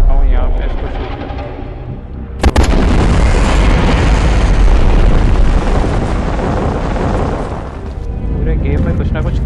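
Shooting and explosions from Godzilla Strike Zone: a sudden huge blast after a rumbling lead-in, then a sustained loud roaring wash of detonations and gunfire that fades near the end. A voice may be present beneath it.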